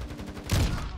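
A burst of gunfire in a shooter video game, a quick rattling volley of shots lasting about half a second, moderately loud against a faint steady background.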